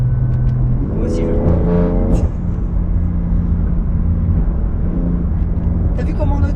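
A tuned BMW M3 accelerating hard, heard from inside the cabin as a droning engine note that climbs in pitch through rising gear sweeps, with passengers talking and exclaiming over it.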